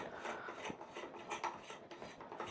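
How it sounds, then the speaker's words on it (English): Plastic retainer nut being unthreaded from a Trimble GPS range pole, giving a continuous close, quiet rasping and rubbing of coarse plastic threads, with no talk. "this little retainer nut, this plastic piece, I'm just going to unthread it"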